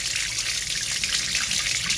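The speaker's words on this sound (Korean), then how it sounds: "일단 꼬질꼬질하니까 샤워 좀 하자." Running water from a tap pours steadily over a land crab brought in from a backyard at a rural Southeast Asian home, a continuous bright splashing hiss that stays close and even throughout with no talking.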